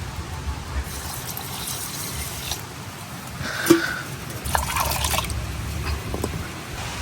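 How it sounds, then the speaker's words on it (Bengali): Water is poured over fried mung lentils to wash them, with splashing, trickling and scattered drips in a kitchen, close and moderately loud, plus a few clinks. "এখন আমি পানি দেওয়া ধুয়ে নিম।"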